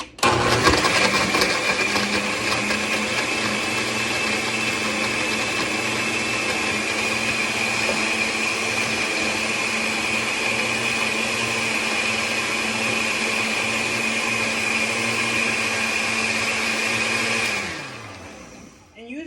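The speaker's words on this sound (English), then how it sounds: "Okay, so got everything in the blender." A blender mixing eggnog runs loudly and steadily for a long stretch, a constant whirring roar that winds down abruptly at the end.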